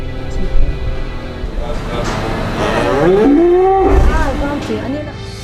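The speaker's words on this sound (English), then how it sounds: "The cow will bellow out for days." Cows on a dairy farm bellow loudly in long, rising moos close by, with other lowing and farm background noise around them.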